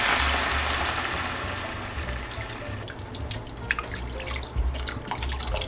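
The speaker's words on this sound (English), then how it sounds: "Now it's time to add the water." Water poured into a pan of Filipino pork giniling, a loud splashing rush at first that softens into a lighter trickle and scattered drips and sizzles.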